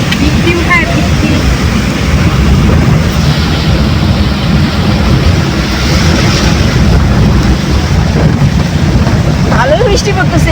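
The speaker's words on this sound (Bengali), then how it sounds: "ভালোই বৃষ্টি পড়তেছে এখানে।" Heavy rain pours steadily and loudly throughout, a dense broadband wash with no break, heard while out visiting temples.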